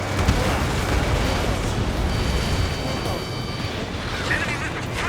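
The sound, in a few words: missile explosion from the video game Ace Combat 7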